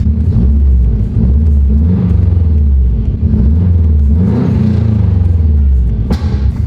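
A Subaru STi bought at auction runs with an exhaust leak, its deep close rumble rising and falling through several revs, with a sharp backfire pop near the end and no talk.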